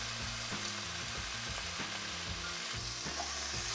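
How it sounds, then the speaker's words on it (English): Chicken breast pieces browning in a hot pan, giving a steady close sizzle with occasional stirring scrapes and soft knocks throughout. "add 2 of your chicken breasts straight to the hot pan"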